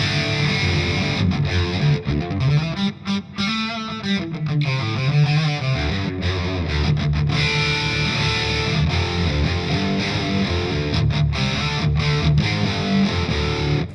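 Distorted electric guitar played through an analog amp-in-a-pedal with reverb and a twin-tracker stereo effect, a steady riff of chugging chords and sustained notes, loud and alone.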